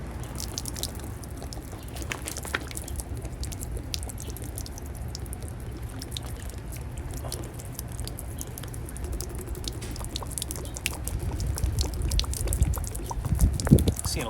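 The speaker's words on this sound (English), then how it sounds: "All right, so it's time to dump our barrel. We're gonna expect a little bit of char and a lot of salt water." Salt water pours and splashes out of a charred rum barrel as it is dumped, a steady close gurgling stream with patter and drips that grows louder near the end.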